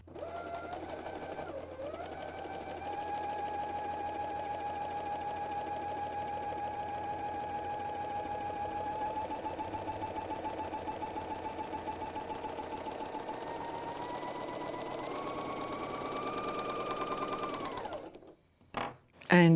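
A Bernina L 660 overlock sewing machine stitches a stretchy seam with a steady, fast, close mechanical whir that briefly dips near the start and stops abruptly at the end.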